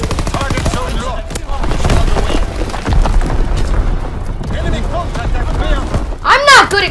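Artillery strike explosions in Call of Duty WWII, heavy booms and rapid gunfire rolling through a loud wartime battle, with a voice speaking over the din.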